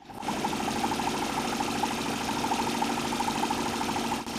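A small Stirling engine driving a wheel runs steadily, giving a continuous mid-pitched mechanical whir with a fast, even rhythmic pulse, close and fairly loud throughout with no talk.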